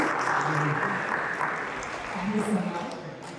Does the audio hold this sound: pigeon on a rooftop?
no